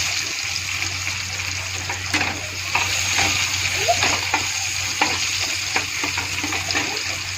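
Onion frying in a pan gives a loud, continuous sizzle with bursts of crackling and occasional stirring scrapes throughout.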